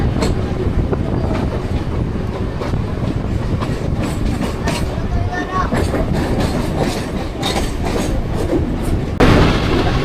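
A Mumbai local train runs from Govandi toward CSMT with a continuous loud rumble, rattling carriages and clickety-clack wheel noise, plus wind buffeting throughout.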